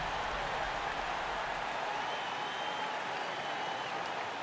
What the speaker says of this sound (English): Nice round of applause for your 76ers